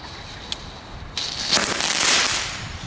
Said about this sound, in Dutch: Met de rotjes.